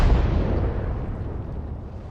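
A tank gun fires in a tank video game, a single heavy boom with a rumbling explosion that decays over about two seconds, loud and close.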